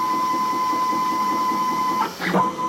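Homemade 3D printer built on Unimat bases, its extruding head moving on the gantry with a steady stepper-motor whine and soft rhythmic pulses, then a short burst of rising tones near the end as it steps up; someone talks over it.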